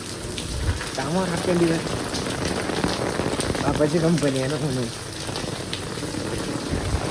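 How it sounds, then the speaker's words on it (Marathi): Heavy monsoon rain pours steadily in Mumbai, a dense, continuous hiss of rain hitting surfaces throughout, with people talking over it. "पूर्ण मे महिन्याचा पाऊस आता एका दिवसात पडणार आहे असं वाटतंय."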